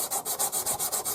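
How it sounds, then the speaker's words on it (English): Steady back-and-forth rubbing of a sanding stick against a metal pearl pendant, about nine even strokes in quick rhythm, close and fairly loud with a gritty, scratchy texture. "put it on your sanding stick"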